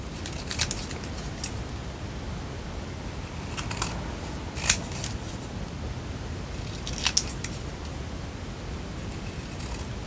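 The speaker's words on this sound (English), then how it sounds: "I'm going to trim it close to the stamp" Faint, scattered snips of scissors trimming a paper stamped card close around the stamp, a few brief cuts spread over a steady hiss of background noise.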